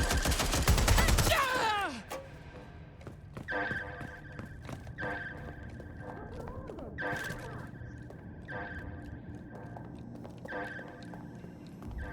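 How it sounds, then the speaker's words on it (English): Gunfire laying down suppressive fire in Watch Dogs Legion: an opening loud volley of rapid shots, then a string of repeated bursts at regular intervals over a rumbling background, with a voice briefly present. "I'm providing suppressive fire!"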